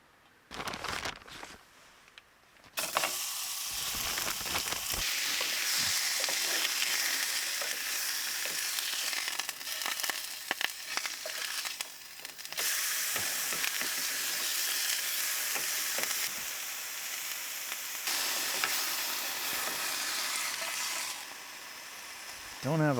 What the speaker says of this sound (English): I want to cook the beef though, because it's thawed out. Put some olive oil in.